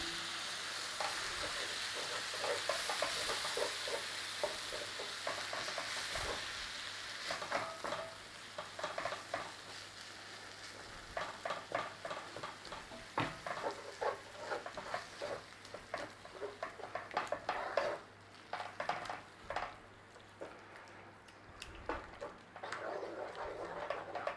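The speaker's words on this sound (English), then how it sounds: "And then in with our beef broth. A little bit at a time." Beef broth poured a little at a time into sizzling mushrooms and onions in a pan, a steady low sizzle that turns into busier, crackling bubbling and stirring, fairly quiet and without talking.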